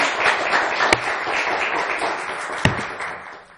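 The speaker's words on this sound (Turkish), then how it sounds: "Ben bir kuvvetli alkış alabilir miyim şu uğraşıya?" Warm applause from a studio audience on the Turkish TV word-game show Kelime Oyunu, a steady dense wash of clapping with a couple of sharper hand claps standing out.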